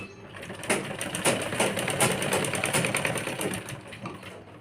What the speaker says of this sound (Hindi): इसके जो ये किनारे है इसके ऊपर इस तरह से पूरे इस पर सिलाई लगा लेंगे।